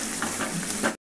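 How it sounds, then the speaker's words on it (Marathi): Green chili frying in hot oil for kadhi makes a steady, close sizzle with crackling bursts, heard alone for about a second before it cuts off abruptly. "त्यामुळे छान अशी तळून घ्यायची ही मिरची तेलावर."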